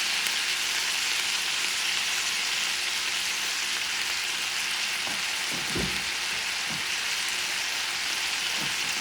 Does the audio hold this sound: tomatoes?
yes